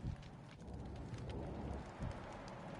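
Crackling, rain-like glitch static from the Vampyr video game, warning of a nearby character, a low, continuous hiss with faint bursts that rises slightly near the start and again toward the end.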